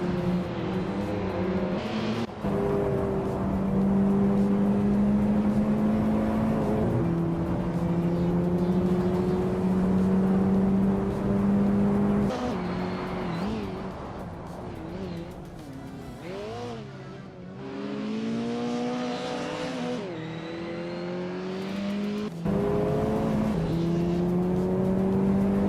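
A 1993 Lancia Delta HF Integrale racing in a video game, its engine droning loud and close with rising and falling revs through gear changes, a brief lull mid-way, then climbing again, with no voices over it.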